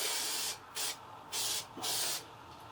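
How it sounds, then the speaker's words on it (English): Spray adhesive hisses from an aerosol can in four or five short bursts, with brief pauses between them, close and fairly quiet in an indoor workspace. "carrying on, spray gluing"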